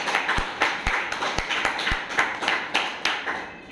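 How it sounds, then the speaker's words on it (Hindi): An audience at an AWPL business team meeting in Kanpur claps in uneven, moderately paced bursts, individual hand claps standing out distinctly in a small, fairly close group. "एक बार जबरदस्त ताली"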